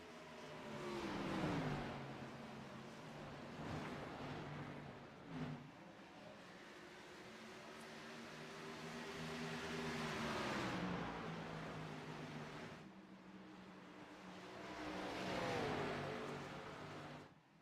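Gen 6 race cars lapping Iowa Speedway, engines rising and falling in pitch as they pass and accelerate off the corners, several distinct surges and fades at moderate distance with no talk over them.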